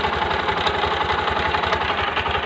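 The engine of a new motorcycle stuck in gear runs close by with a steady, rapid mechanical chatter and knocking rhythm that holds for the whole moment.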